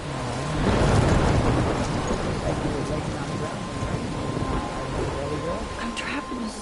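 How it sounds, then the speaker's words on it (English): Steady heavy rain hisses through a thunderstorm in the video game Life is Strange, with a low rumbling swell near the start and continuous dense noise throughout. "I'm trapped in a storm?"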